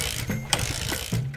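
A motorbike kick-start lever is pushed down a couple of times, giving short mechanical ratcheting clunks up close. The engine fails to catch.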